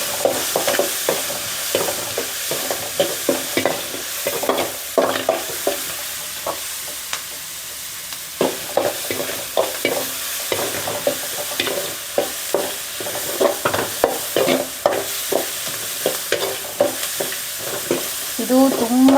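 A tempering of onion, tomato and turmeric for puffed rice upma sizzles in a pan under steady stirring, with repeated scraping strokes and clacks over a continuous fry hiss.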